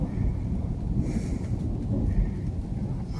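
A thunderstorm over Lake Constance at Konstanz, with a steady low rumble of thunder and rain running through the whole stretch, fairly loud and without voices.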